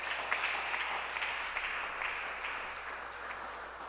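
A church congregation applauds together, a steady broadband clapping that stays fairly even and moderately loud throughout, with no voices standing out.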